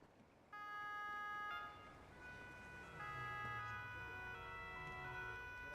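Ambulance siren in an Italian roleplay video game, a steady wailing tone that comes in abruptly and holds for several seconds, rising and shifting in pitch as the vehicle arrives, with engine rumble below and no talk.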